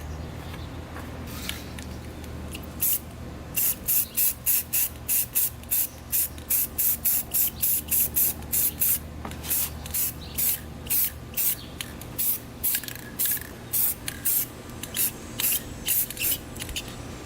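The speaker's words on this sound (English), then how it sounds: "We're just gonna spray right over that yellow paint." Repeated short bursts of aerosol spray paint hissing close by, each lasting about half a second, with brief pauses between them over a steady low background hum, painting a Yamaha Blaster quad's heat shield.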